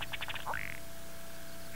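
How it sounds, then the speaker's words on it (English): A male spike-tailed ruddy duck calls nearby: a quick run of clipped, quack-like notes followed by a single rising call, with no other sound around it. "Here's the spike-tailed ruddy duck."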